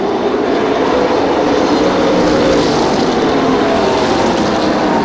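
Limited late model race cars roaring down the front stretch of a race track, a loud, steady, dense engine drone that fills the scene with no talk over it.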